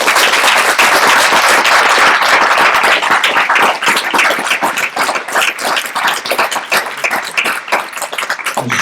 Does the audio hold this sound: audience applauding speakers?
yes